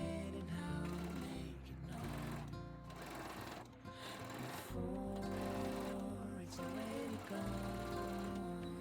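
A sewing machine top-stitches the lining of a halter babydoll dress, running in a loud, steady motorized whir with brief slowdowns and pauses between bursts of stitching.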